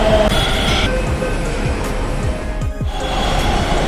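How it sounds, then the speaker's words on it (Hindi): A Delhi Metro Pink Line train pulls into an elevated station, a loud steady rumble and rising hiss of the carriages filling the platform, with a brief drop in noise partway through. "ये आ गई है भाई मेट्रो पिंक लाइन।"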